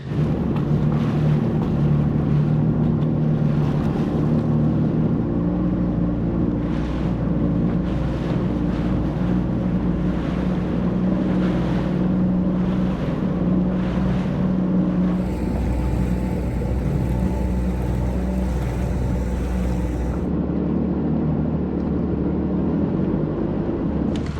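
A WaveRunner personal watercraft cruises across a lake, its engine droning low and steady under heavy wind buffeting and water rush for the whole stretch, with no speech.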